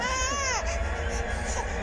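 A baby girl cries in a wailing, rising-and-falling sob with strong harmonics, close and fairly loud, over a steady low background hum.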